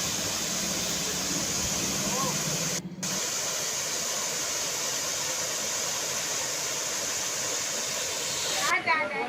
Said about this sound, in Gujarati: ખૂબ જ સરસ મજાનો ધોધ પડે છે